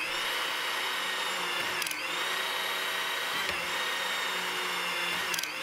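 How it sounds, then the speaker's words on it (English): A Hytorc hydraulic torque wrench and its pump run steadily as the wrench rotates a nut, a continuous loud mechanical whine with brief pitch dips and clicks about every two seconds. "Using the pump control, advance the wrench so that it rotates the nut."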